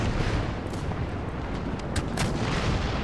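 Naval ship cannons in Empire: Total War (Darthmod) thunder in a sustained, heavy barrage of overlapping booms and rumble, loud and steady throughout, with no voices.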